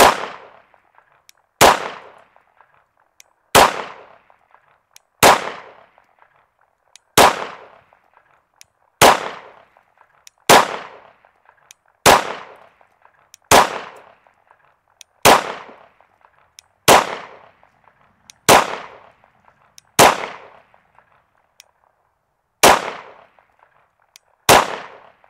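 Repeated sharp gunshots from .22 and 9mm firearms hitting a pumpkin, about thirteen evenly spaced loud cracks each followed by a short decaying tail, with no talking.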